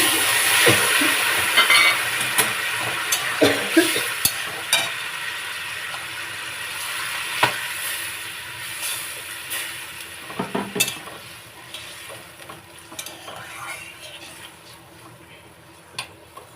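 Hot water hits a pan of potatoes and green beans frying in oil, setting off a loud hiss and crackling sizzle that gradually settles, with scattered clinks of a utensil stirring.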